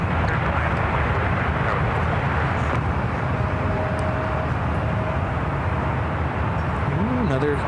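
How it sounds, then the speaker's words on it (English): An airplane lands at SFO airport, a steady loud roar of engine and rushing air sustained throughout, with a brief voice near the end. "Another close double landing"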